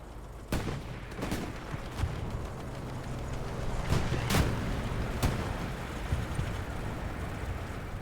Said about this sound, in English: I see the explosion there.